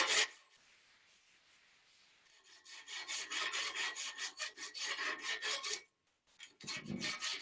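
A hand rasp scrapes against a workpiece in quick, rhythmic back-and-forth strokes, close and loud, pausing briefly before a few more rough filing passes.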